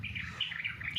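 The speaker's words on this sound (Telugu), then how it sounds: "ఆ పక్షుల సౌండ్ చూడండి పక్క నుంచి వినిపిస్తుంది." A small bird calling near banana flowers while feeding on their nectar, thin repeated high chirps over a low steady background hum, moderately distant.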